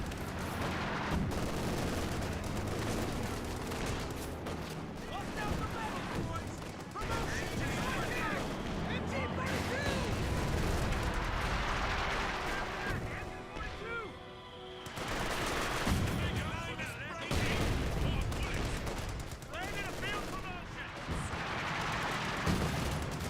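Continuous battlefield gunfire in the strategy game Company of Heroes 2, rifle and machine-gun bursts with heavier booms, loud and sustained for over twenty seconds with a brief lull midway, under a commentator's running talk.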